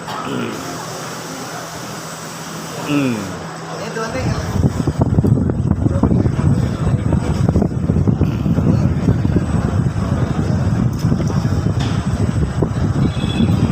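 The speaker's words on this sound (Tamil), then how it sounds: "ஏர் கூலர் செம்ம காற்று பாருங்கள்." A strong, roaring rush of blowing air starts after a few seconds of quieter sound and continues loudly and steadily.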